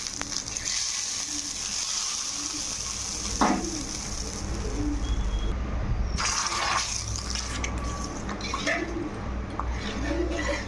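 Panch phoron whole spices sizzling and frying in hot oil as a tempering for khichuri, a steady crackling sizzle throughout with a few brief louder clatters of utensils.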